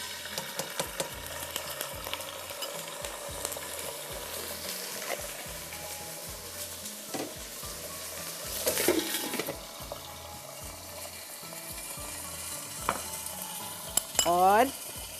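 Garlic paste sizzles and fries in a hot pan, with steady crackling and a spoon stirring and scraping against the pan throughout, plus a short clink near the end.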